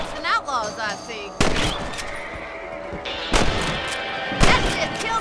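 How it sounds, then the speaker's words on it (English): Gunfire from hunting rabbits in Red Dead Redemption: three sharp rifle cracks spaced a second or so apart, each trailing off into an open outdoor ambience with faint game sounds between them. "Nice shooting! Better at shooting rabbits than outlaws, I see."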